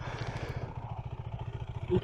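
A KTM RC390 motorcycle, 2022 model, idles close by with a fast, even low-pitched pulsing thump, fairly quiet and steady throughout.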